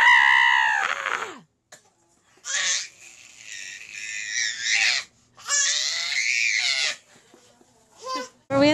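An infant shrieks and squeals in several long, high-pitched bursts separated by brief pauses, close to the mic and loud, with little else in the background.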